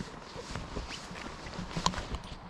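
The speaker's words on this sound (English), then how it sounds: "There's a horse coming up now." A horse approaching along a forest path near a campsite, its hooves clip-clopping in a light, uneven rhythm, fairly faint at mid distance against outdoor ambience.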